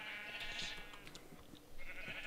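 A sheep in a video game bleats in a wavering, nasal call that comes back a moment later, fairly faint with no talking over it.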